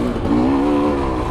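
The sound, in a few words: motorcycle rear tire spinning without grip on a trail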